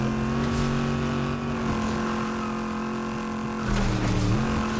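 Vehicle engine in Fortnite, Chapter 5 Season 3, droning steadily throughout with a low sustained hum and a rise in revs near the end, fairly loud and close with no talking.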